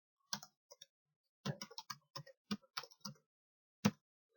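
Keys tap on a computer keyboard during a password entry, close and quiet, in short irregular clusters with pauses between keystrokes.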